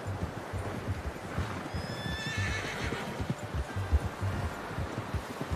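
A horse in the Red Dead Redemption 2 video game whinnies once mid-clip, a high wavering neigh over steady hoof clip-clops and faint outdoor ambience.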